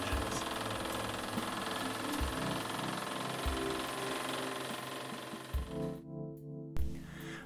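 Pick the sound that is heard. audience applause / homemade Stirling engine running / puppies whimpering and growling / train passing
homemade Stirling engine running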